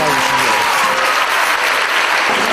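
An audience applauds at a ballet performance of Swan Lake, a dense, loud wash of clapping that carries on steadily throughout.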